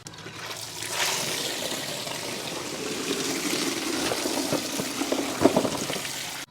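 Water runs steadily into a container to soak about four kilograms of dirty galangal roots, a continuous close splashing fill with a few louder knocks near the end.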